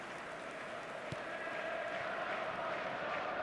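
A football video game stadium crowd keeps up a steady, dense roar of cheering throughout, with no commentary over it.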